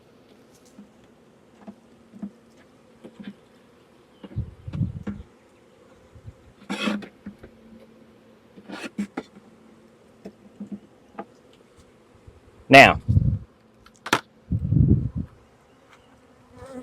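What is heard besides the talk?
honeybee swarm buzzing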